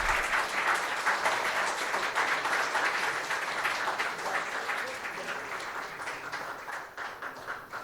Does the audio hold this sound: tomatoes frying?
no